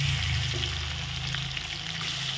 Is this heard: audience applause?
no